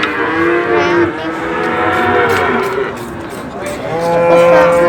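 Simmental cattle low at the busy Wirosari cattle market in Indonesia, long drawn-out moos overlapping one another over a murmuring crowd backdrop.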